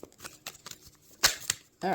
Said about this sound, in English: we'll do one more shuffle here